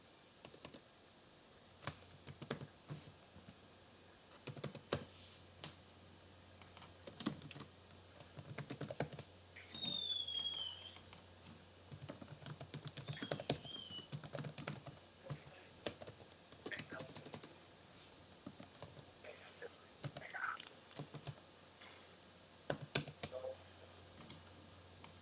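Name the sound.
fast typing on a computer keyboard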